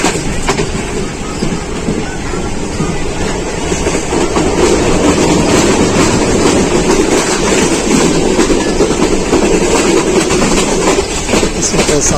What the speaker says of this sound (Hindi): इस वक्त साधु के क्रॉस कर रही है ट्रेन।